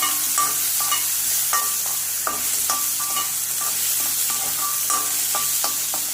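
Onion frying in a pan for spiced curd okra: a continuous sizzle under repeated rhythmic spatula scrapes and taps against the pan, close and fairly loud throughout.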